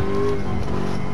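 Ford Focus RS engine accelerating in a racing game, a steady loud drone of engine and road noise with a faint tonal whine, no talk.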